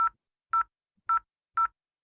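Four short telephone keypad tones beep one after another at an even, half-second pace as a number is dialed, clear and alone in silence.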